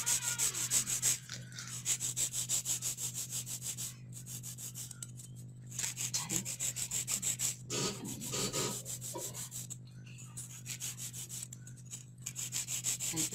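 A nail file rasps steadily back and forth across acrylic nail tips to sharpen them, with close, rhythmic scraping strokes broken by a few brief pauses.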